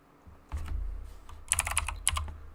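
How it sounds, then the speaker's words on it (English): Typing on a computer keyboard: a quick run of clicking keystrokes close by, growing denser toward the end, with a low hum beneath and no talk. "Oh shoot, I just started typing."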